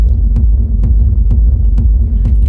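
A techno kick drum treated with automated vintage FET-style compression pounds steadily, loud and close, about five evenly spaced punchy hits over a thick, pumping low rumble, with no voices.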